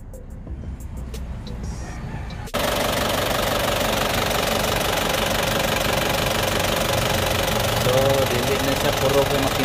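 An Isuzu Sportivo engine idling slightly rough after an oil change and valve clearance adjustment, a loud, steady, close-up mechanical rumble with a faint knock that starts abruptly partway in and runs to the end, with people talking over it.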